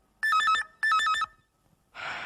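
An old-style telephone bell rings in two distinct bursts, each about half a second long with a short gap between them, loud and close, followed by a breathy hiss.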